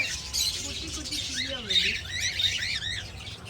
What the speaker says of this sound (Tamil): ரெசார்ட்டுக்குள்ள சூப்பரா வச்சிருக்காங்க தனியா கிளி.